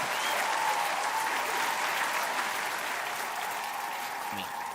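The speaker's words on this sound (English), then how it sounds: "can we get a round of applause for the guy?" A round of applause sounds as a steady, faint wash of clapping, evenly sustained and slightly distant-sounding, fading a little toward the end.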